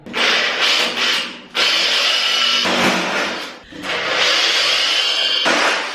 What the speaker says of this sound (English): So we're gonna pre-drill 2 holes as well.